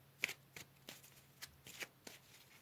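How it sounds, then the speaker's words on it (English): Tarot cards being shuffled and pulled from the deck, heard as close, quiet riffling bursts and soft card snaps in an irregular rhythm, with no talking. "Let's pull some more cards here."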